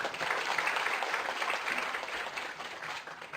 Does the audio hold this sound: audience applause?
yes